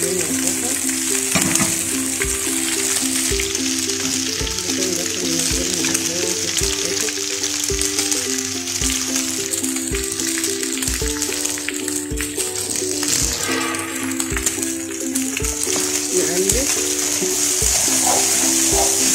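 Onions sizzle in a frying pan for beef shawarma, with steady close frying and occasional stirring rattles over a faint tonal background. The sound runs continuously throughout.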